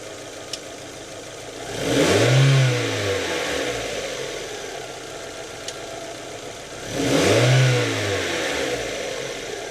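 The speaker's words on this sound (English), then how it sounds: "So we should hear the engine revving up." Mazda Miata (NA/NB) engine revving twice as the cruise control actuator pulls its cable, each rev rising and falling over a few seconds above a steady idle, no talk.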